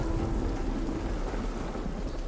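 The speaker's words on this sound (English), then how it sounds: "And then it rained, and it poured." Heavy rain pours steadily and close by, a dense continuous roar of drops hitting surfaces with no talk over it.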